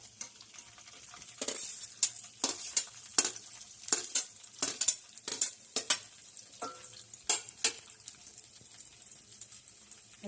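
Onion, mustard seeds and cumin frying for avarekalu uppittu, stirred with a utensil that gives a series of sharp, close scraping clacks in an uneven rhythm over a low background sizzle.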